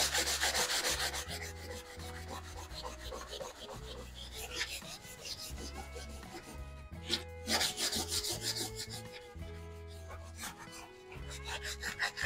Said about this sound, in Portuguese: E agora a gente vai lixar. Eu estou usando essa lixa aqui que é o grão é 80.